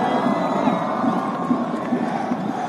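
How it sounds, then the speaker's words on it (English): Visiting football fans in a Korean league stadium at Suwon FC versus Jeonbuk Hyundai Motors chant and cheer steadily at a distance, a rhythmic roar with regular pulses, under faint commentary. "The visiting crowd, they've been in good voice."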